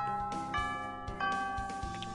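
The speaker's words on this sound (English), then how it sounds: "Oh, the bell already?" A chiming school bell from the video game Hatoful Boyfriend rings with clear repeated tones, a few struck notes sounding fairly quietly over a short stretch without speech.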